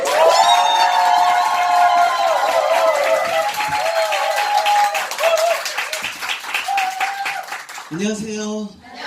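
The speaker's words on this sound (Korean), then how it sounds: "우리 자기가 에너지를 받고 싶은 만큼의 함성 박수로 맞이하도록 하겠습니다" A large crowd cheers and applauds loudly and continuously, with shouts and whoops rising over dense clapping throughout.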